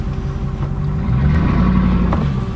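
A Ford F250 pickup truck's engine revs while being driven: a steady, loud low rumble that swells slightly partway through, with no voices.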